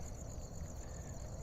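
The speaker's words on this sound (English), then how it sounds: "crickets chirping from their" Crickets chirp at night among garden shrubs, a faint, continuous high trill over soft low background noise.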